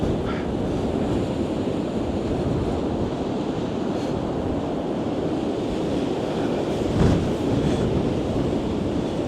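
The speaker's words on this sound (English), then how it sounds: "the waves are all getting churned up" Stormy high tide at Blackpool South Pier, with churning waves crashing in a continuous loud roar under gusting wind buffeting the microphone, steady and unbroken for the whole stretch.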